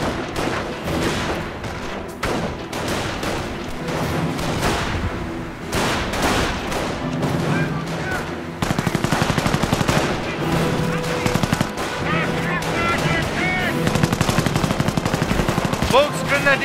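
Heavy gunfire from a Company of Heroes battle, continuous machine-gun bursts and rifle shots layered with explosions and shouted voice lines, loud and dense throughout.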